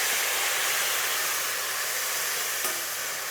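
Tomatoes dropped into a hot pan, a loud, continuous close-up sizzle and hiss that holds steady throughout, with no voices.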